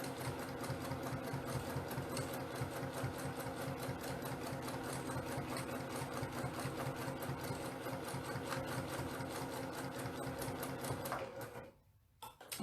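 A home sewing machine runs steadily through free motion quilting stitches, its fast even mechanical chatter holding close and constant before stopping abruptly near the end.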